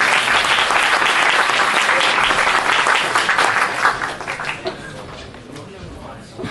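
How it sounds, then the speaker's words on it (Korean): A crowd at a high school Thanksgiving worship service gives loud, dense applause that fades after a few seconds into scattered claps, with people talking over the dwindling clapping. "박수 드리겠습니다."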